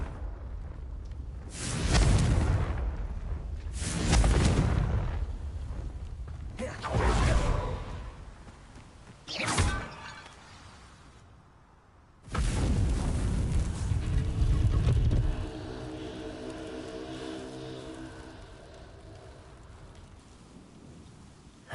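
Repeated spell blasts from Confringo in Hogwarts Legacy: four loud whooshing explosive bursts in quick succession, then a longer rumbling blast that fades into a lingering tail.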